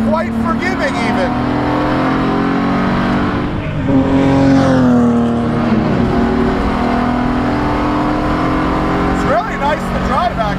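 A BMW E46 330ci in Spec E46 race trim drives on a track, its engine holding a loud, steady drone with one brief rise and fall in pitch midway, under someone talking throughout.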